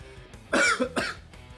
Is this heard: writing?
no